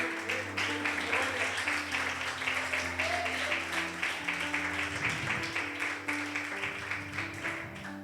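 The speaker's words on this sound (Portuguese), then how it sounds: "Louve ao Senhor com palmas." Church congregation at an evening service claps in praise, a dense continuous wash of hand claps with a steady rhythmic pulse, mixed with music and voices underneath throughout.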